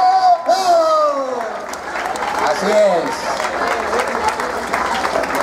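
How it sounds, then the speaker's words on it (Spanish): Crowd applause for a youth symphonic band at a tribute concert, a steady wash of clapping under a loud announcer's voice and a few cheers. "venga ese fuertote aplauso también para la Banda Sinfónica Juvenil de ¡Ojo"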